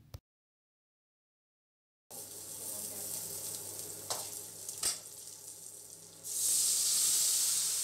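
Asafoetida dropped into hot oil gives a steady, close frying sizzle after a brief silence, with a few stirring knocks and a louder hiss swelling near the end.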